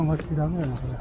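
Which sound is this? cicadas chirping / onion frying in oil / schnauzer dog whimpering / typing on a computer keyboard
cicadas chirping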